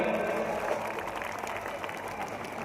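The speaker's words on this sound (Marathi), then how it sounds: "एकदा स्वतःसाठी जोरदार टाळ्या झाल्या पाहिजे मित्रांनो." A crowd applauds at a Ram Navami band event in Jamner. The clapping is dense and steady, with no break across the short stretch.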